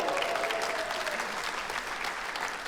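Comedy club audience clapping, a dense, steady burst of many hands filling the room, loud and continuous from start to finish without talk over it.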